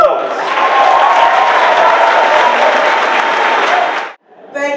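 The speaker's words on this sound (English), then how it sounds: "let's give her a round of applause" A lecture-hall audience at a lecture series event for Mayor Julián Castro breaks into loud, sustained applause with some cheering, a dense roar of clapping that cuts off sharply before a voice begins speaking.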